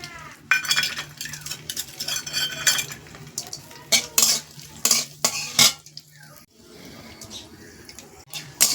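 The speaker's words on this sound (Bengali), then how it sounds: "একটু লাল করে ভেজে নেবো তারপরে আমি এই যে চালমগজ অল্প একটু চালমগজ দিচ্ছি" Dried chillies, bay leaf and melon seeds frying in a pan while being stirred, with clattering spoon-on-metal scrapes and clinks in irregular bursts over a soft sizzle; little or no talk.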